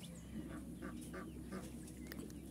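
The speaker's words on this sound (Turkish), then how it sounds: "O kadar çok ileride o kadar çok ördekler var ki." Ducks and other farmyard fowl in a village yard give a few faint, spaced quacks and calls, heard at a distance over a steady low background hum.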